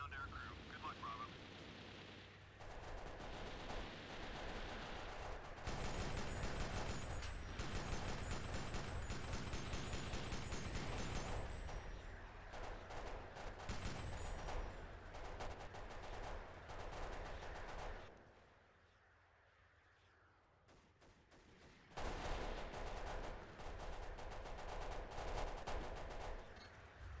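A surface-to-air missile barrage in Delta Force Xtreme 2 roars as a dense, loud stream of rapid gunfire and blasts, broken by a brief lull before it surges back.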